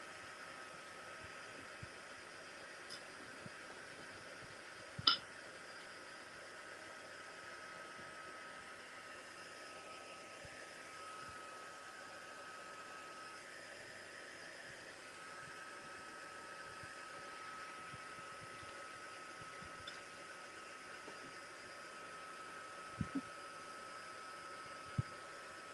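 Steady whoosh of a hair dryer drying layers of mixed media paint, running continuously at close range with a few faint clicks and taps, no talking.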